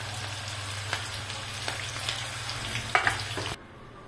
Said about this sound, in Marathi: असं सगळ्या तळून घ्यायचं